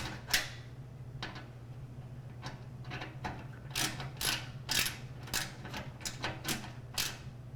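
A ratchet tightens a screw during a Core i7 NVMe computer build, giving a run of sharp, close clicks in uneven bursts over a steady low hum, with no talking.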